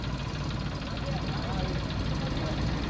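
A Mahindra Yuvraj mini tractor engine idling at a dealership, a dense continuous rumble with steady low knocking throughout, close and fairly loud, with voices talking over it.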